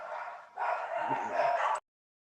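Small dogs bark and yip indoors in a steady burst of yapping, fairly close and loud, heard during an online biology lecture before cutting off abruptly.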